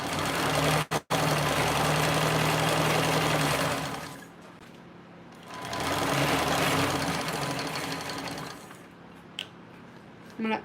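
A sewing machine basts three fabric edges at a long stitch length, whirring steadily in two sustained close bursts separated by a quieter pause, with faint handling noises between runs.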